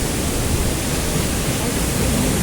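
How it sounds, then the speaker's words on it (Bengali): Bonjhakri waterfall near Gangtok, Sikkim, a loud, dense, unbroken roar of rushing water heard close up, with no voices. "বেশ দারুণ লাগলো এই ওয়াটারফলসটা, বনঝাঁকড়ি ওয়াটারফলস"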